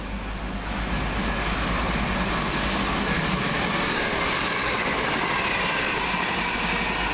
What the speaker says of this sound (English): And now just coming in, the 11:47 Northern Rail service from Manchester Piccadilly to Alderley Edge